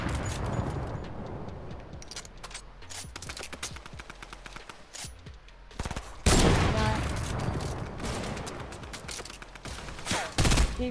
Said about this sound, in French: Encore une autre team qui me snipe là.